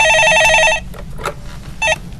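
A telephone rings with an incoming call on a Korean stock-market call-in show: a loud, bright electronic trill that sounds for almost a second, breaks off, then returns in a short second burst.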